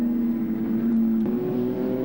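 A vintage Talbot racing car passes at Silverstone, its engine holding a steady loud drone with a slight pitch shift as it goes by, alone without voices.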